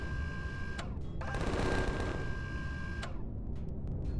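Turret gunfire in the Empyrion sci-fi game: sharp shots and a dense rattling burst stand out over a constant low rumble, with a steady electronic tone running underneath, close and fairly loud.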